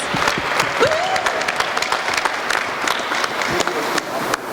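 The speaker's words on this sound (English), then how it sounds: "Give them a very, very, very big round of applause" Big round of applause from a school hackathon idea-showcase audience welcoming a team to the stage, dense sustained clapping with sharp individual claps standing out and a brief whistle or cheer near the start.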